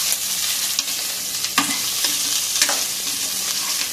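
Radish and vegetables fry in hot oil in a pan, giving a steady bright sizzle, with a few sharp scrapes and clinks of stirring. Close and fairly loud, with no talk.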